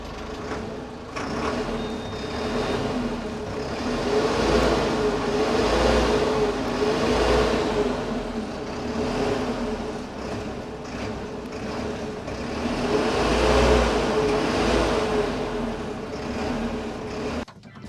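A heavy Solis S75 tractor engine rumbles steadily for the whole stretch, its low drone swelling and easing slightly as it runs, with no voices.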